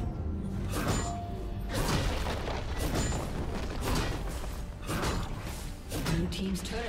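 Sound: turret destroyed in League of Legends video game

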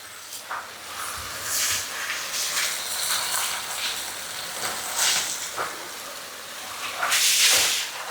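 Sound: kanchong vegetables added to pork stir-fry, sizzling in pan

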